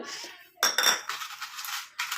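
A spoon clinks and scrapes against a mixer grinder jar while adding tea powder, a couple of short, bright bursts, close by and fairly quiet.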